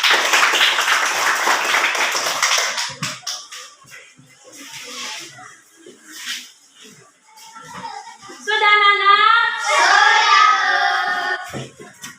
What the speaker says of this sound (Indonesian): Tepuk tangan untuk kelompok Timun.